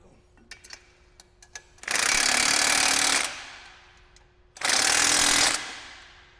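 A power tool drives bolts during belt squat rack assembly: two loud buzzing bursts of about one and a half seconds each, close up, preceded by faint clicks and handling noise.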